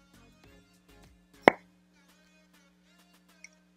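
A lipstick case in the nude shade Dune pops open with one sharp, close snap in a quiet room, followed by a faint tiny tick a couple of seconds later.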